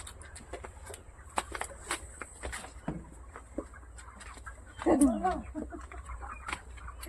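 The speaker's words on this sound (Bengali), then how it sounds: "আমি এরকম মুরগির এত মুরগির মধ্যে এসেছি" Chickens cluck at a poultry shop, scattered near and far with sharp clicks and knocks around them, a louder burst of clucking near the end, and a person talking in the clip.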